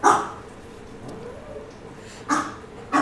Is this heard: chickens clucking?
no